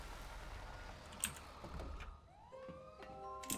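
A police siren in the video game GTA 5 rises and wails faintly in the background, following quiet clicks and taps and a few soft knocks, with no speech.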